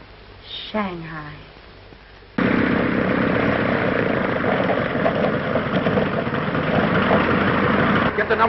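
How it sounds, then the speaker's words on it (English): A propeller plane's engine drones steadily and loudly in the open air near a ship being put underway, cutting in abruptly after a quieter opening and holding a dense, unbroken roar to the end. "Get the number of that plane."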